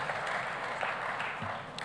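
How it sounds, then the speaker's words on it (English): An audience at a conference closing ceremony applauds briefly, a soft, fairly distant patter of many hands with faint voices mixed in. "Give her another round of applause"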